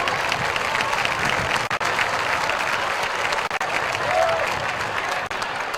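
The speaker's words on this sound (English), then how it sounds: "Let's have a nice round of applause for Jerry, Bob, and Gable." A crowd applauds hall of fame inductees at a high school football night, steady broad clapping with crowd murmur underneath, holding at a strong level throughout.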